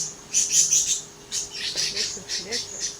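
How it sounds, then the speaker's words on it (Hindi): Birds chirp and tweet in bright, high bursts throughout, with a soft background hum and no talking. "चिड़ियों के चहचहाहट के साथ गुड मॉर्निंग"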